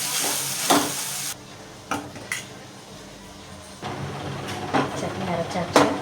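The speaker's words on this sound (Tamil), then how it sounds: "நல்லா வதங்கட்டும்." Spring onions sautéing in a pan for chutney, a steady sizzle with a spoon scraping and stirring against the pan in close, intermittent strokes.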